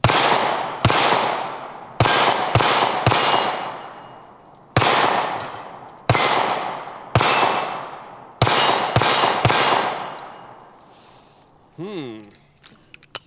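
A pistol is fired repeatedly at a range, with about a dozen sharp, loud shots at uneven intervals, each ringing briefly before the next. A short tonal sound follows near the end.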